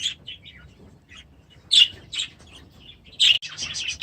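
Budgies chirp in an outdoor breeding aviary, with bright, sharp tweets coming in short bursts and scattered calls, close and fairly loud against a quiet background, with no talk.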